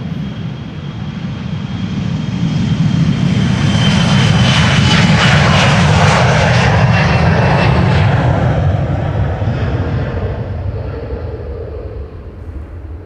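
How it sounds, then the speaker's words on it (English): A KLM jet airliner departing Amsterdam Schiphol roars up close, swelling to a loud peak mid-clip with a whining high tone, then slowly fading as it climbs away. "This is KLM flight 1175 to Stavanger"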